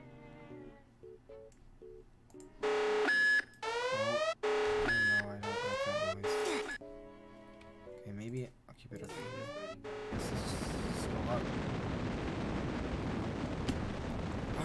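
A rocket launches in a Roblox video game. Loud synthetic rising tones and beeps come first, then a sustained roaring blast that lasts to the end. A person talks over it.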